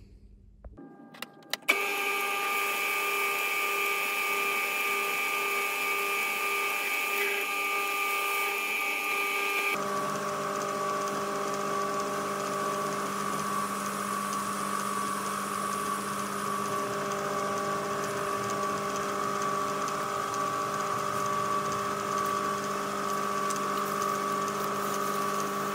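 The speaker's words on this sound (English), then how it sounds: "So bit of quality lathe time coming up." Metal lathe cutting a Ner-a-car engine part, a steady high machining whine with tonal bands that runs continuously and loud after a brief start, shifting pitch partway through, with no voices.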